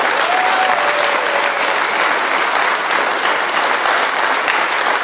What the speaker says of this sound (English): clap for Warren. That's even better.